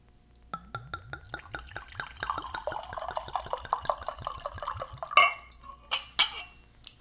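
Wine is poured into a glass, a steady run of rapid glugging pulses for several seconds, close and clear, ending with a couple of sharp clinks.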